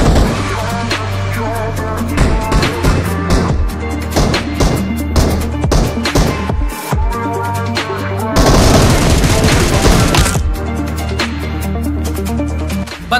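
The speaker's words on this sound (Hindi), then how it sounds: "अब यहाँ पर देखना भैया एक बंदा फायर करेगा" Rapid bursts of gunfire and booming shots from a BGMI battle royale firefight, loud and dense, with sharp repeated reports throughout and a heavier burst of fire near the end, backed by steady game sound.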